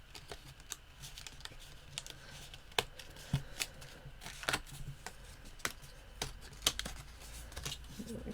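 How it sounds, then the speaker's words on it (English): Laser-cut paper card pieces from a card kit are popped out one by one, giving light, scattered papery clicks and snaps over a quiet tabletop background, close and fairly soft. "So I'm just going to pop these out."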